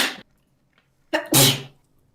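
A short breath-in is followed by a loud, sharp sneeze close to the microphone, with a brief quieter burst just before the main sneeze.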